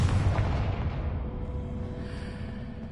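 Confringo fire spell in the Hogwarts Legacy video game sets off a loud, rumbling explosion with a deep boom that slowly fades over a few seconds.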